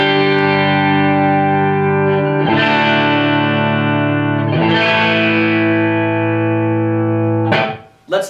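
Electric guitar through the lead channel of a Megatone Vostok amp with heavy gain, sounding loud, distorted and sustaining, with several long held notes that swell with new attacks before a sharp cutoff near the end.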